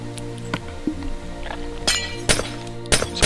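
Blocks being broken in Minecraft, a handful of sharp glassy clinks and cracks spaced irregularly over a low game background hum, close and fairly loud.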